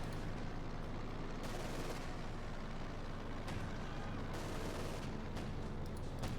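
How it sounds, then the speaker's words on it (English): Heavy anti-aircraft fire in the real-time strategy game Company of Heroes 2, aimed at aircraft overhead: a dense, continuous roar of rapid gunfire and rumbling bursts with a few sharper cracks, loud and unbroken throughout. "Heavy anti-aircraft fire there against the aircraft moving about there"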